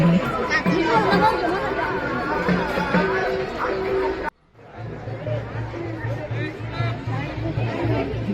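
Pilgrims crowd the stone-walled hilltop temple at Mandhardev, a dense, steady chatter of many voices close by, briefly cut by a short drop before the babble resumes.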